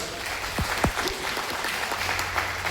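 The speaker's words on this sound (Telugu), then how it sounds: "వీళ్ళందరికీ ఒకసారి గట్టిగా బిగ్ రౌండ్ ఆఫ్ అప్లాజ్." Round of applause from a crowd welcoming newcomers at a business gathering, a steady wash of clapping at moderate level with a couple of louder whoops or whistles over a low background hum.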